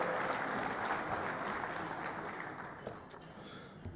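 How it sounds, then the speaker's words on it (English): A conference breakfast audience applauds for the mayor of Las Vegas, a dense, steady wash of many hands clapping that fades slightly toward the end. "One more round of applause for Carolyn, the mayor of Las Vegas."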